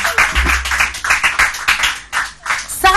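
A studio audience at a televised quiz show breaks into applause, dense irregular clapping from a crowd that rises and falls in bursts over a few seconds.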